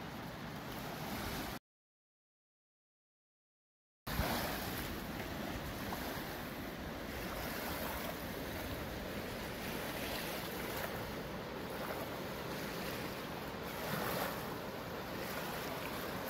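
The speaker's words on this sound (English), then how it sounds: "So we are at Pariah Beach on the Colorado River." Waves wash steadily onto Pariah Beach on the Colorado River, a continuous broadband rush with wind noise. It drops to silence briefly near the start.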